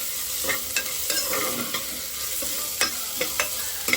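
Green chillies for peas pulao frying and being stirred in a pan until browned: a steady close sizzle broken by regular spoon scrapes and taps, with no talking.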